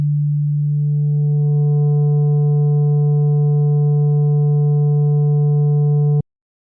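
Steady sustained tone run through waveshaping distortion in the Lumen Harmonic Sculptor plugin, a thick low drone with upper harmonics building in over the first seconds, then cut off abruptly.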